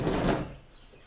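A drawer full of pigments slides open in one short, close scraping rumble that fades within half a second.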